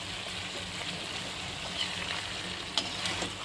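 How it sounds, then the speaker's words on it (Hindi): A soft, steady sizzle of chicken mince cooking with spices in a pan, with faint scraping strokes as it is stirred, close but fairly quiet and continuous, no speech. "और इन सभी मसालों को हम अच्छे से मिक्स कर लेंगे"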